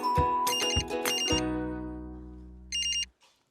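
A telephone rings in a domestic setting with a bright electronic ringtone: two loud bursts, a sustained fading tone, then a final short burst before it stops.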